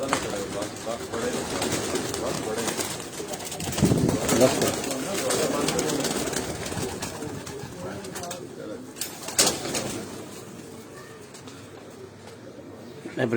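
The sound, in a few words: breeder pigeons cooing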